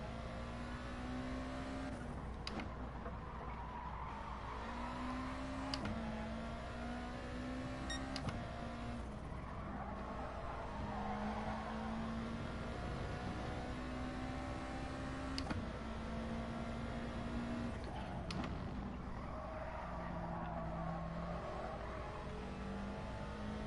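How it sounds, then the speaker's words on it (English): Race car engine in Gran Turismo Sport revving up through the gears, its steady whine climbing and dropping with each shift, loud and continuous with short breaks between gears and no voices. "See, I'll rev this one out."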